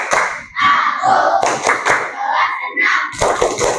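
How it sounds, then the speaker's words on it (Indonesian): Sixth-grade pupils in an Indonesian classroom perform a rhythmic clapping chant, loud close claps and hand slaps in patterned bursts mixed with children's chanting voices. "Kalau senang kita kasih tepuk kelas 6 dulu ya."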